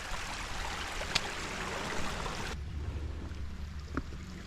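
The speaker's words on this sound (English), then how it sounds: "it's got the water coming in over the rocks" Shallow water runs over rocks into a foot-deep rock pool, a steady broadband wash close by with a faint trickle, no voices.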